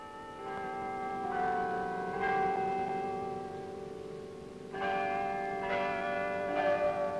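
Oslo City Hall carillon playing the Norwegian royal anthem in 1952, with clear ringing bell tones struck in a slow melodic sequence, each note sustaining and overlapping, heard at a moderate distance without voices.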